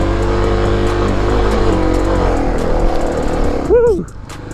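A Kawasaki KLX250 two-stroke motorcycle labors up a steep hill, its engine roaring loud and steady close by before easing off near the end, with a brief whooping voice over it.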